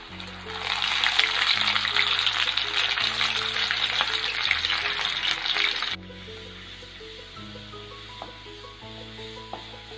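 Urad dal fries in hot oil in a kadai for rava upma, giving a loud steady sizzle that drops suddenly to a quieter hiss partway through, over soft background music.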